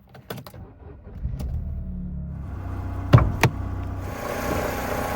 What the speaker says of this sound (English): It is an engine, it works